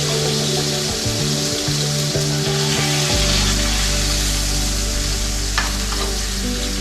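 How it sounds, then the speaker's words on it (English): Thick rib eye steak searing in a hot pan, a steady loud sizzle throughout, with brief clattering from the pan as the meat is moved and turned onto its side partway through. "just turn them on the side. And just let them sear there for a little bit"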